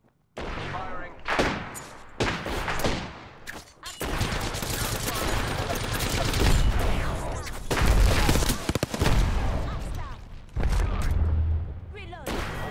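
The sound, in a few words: gunfire in the video game Apex Legends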